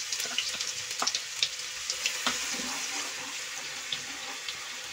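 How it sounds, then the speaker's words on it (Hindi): Garlic sizzles in hot oil in a wok, with cumin seeds already crackling, while a mushroom and capsicum dish is cooked. There is a steady, close broadband hiss with scattered sharp pops and crackles throughout. "अब मैं इसमें लहसुन डाल दूंगी।"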